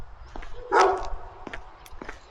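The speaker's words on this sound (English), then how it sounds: "It's just like constant barking at everything." A dog barks once at moderate distance in an outdoor residential area, with a few fainter yips following in the background.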